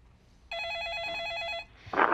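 A telephone rings for an incoming call during a stock-investment consultation broadcast, one steady warbling electronic ring lasting about a second, loud and close, followed by a brief rustle.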